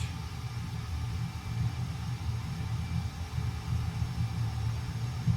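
F-18 Hornet jet engine in an Xbox flight simulator, a steady low rumbling roar that holds evenly throughout without any voices.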